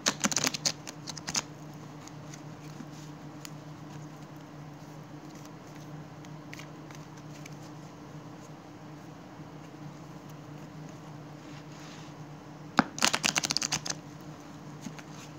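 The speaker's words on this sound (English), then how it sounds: "I will pull you a few cards from the Isis Oracle." Isis Oracle cards are shuffled by hand, two short crisp riffling bursts at the start and near the end over a steady low hum in a quiet room.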